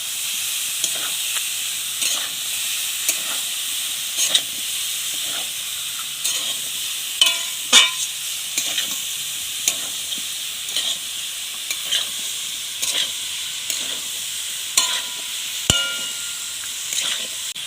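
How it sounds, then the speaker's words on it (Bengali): Potatoes frying in a wok while being stirred, a steady bright sizzle and hiss with regular scraping strokes of a spatula, loud and close. "এছাড়া আলুটা কড়ার মধ্যে দিয়ে দিচ্ছি।"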